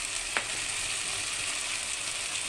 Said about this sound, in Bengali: আদা বাটাটা দিয়ে দিলাম দিয়ে ভালো করে এরকম করে নাড়াতে হবে